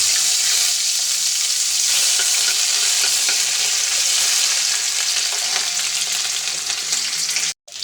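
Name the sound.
ginger frying in pan for khichuri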